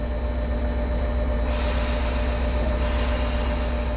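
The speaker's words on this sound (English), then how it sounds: "Use the independent brake to hold the train while air for the automatic brake is recharged" A locomotive's air brake hisses in Train Sim World, with steady rumbling train noise under two bursts of rushing, hissing air, each lasting about a second or more, heard close with no talking.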